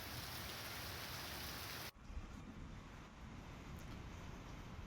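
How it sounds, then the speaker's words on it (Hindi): Heavy rain pours steadily on surfaces in Rajasthan, a dense, loud, continuous hiss that dips for an instant and then carries on unbroken. "तो कई इलाकों में झमाझम बारिश की सीधे तस्वीरें आपको दिखा रहे हैं।"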